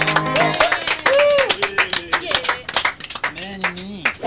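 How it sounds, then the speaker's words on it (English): A small group at a tennis friends' reunion in Montana clapping in a quick, uneven round of applause, close by, with voices calling out over it. "Round of applause,"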